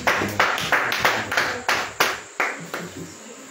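Worshippers at a house-church prayer service clap close by in a steady rhythm of about three claps per second, each sharp and even, with no other sounds mixed in.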